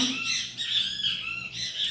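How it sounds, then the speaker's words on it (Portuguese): A great kiskadee calls outdoors at a moderate distance, its bright, squawky phrases repeating over a soft background. "os bem-te-vi sempre presentes nos vídeos"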